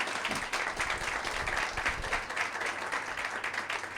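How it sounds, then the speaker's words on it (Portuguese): A church congregation applauds at a Portuguese service, rapid overlapping hand claps from a sizable crowd forming a continuous, moderately loud roar that holds steady from start to finish. "Pode aplaudir ao Senhor."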